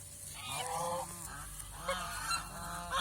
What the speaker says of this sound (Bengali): এই যে টোপওয়ালা হাঁস দেখাইতেছি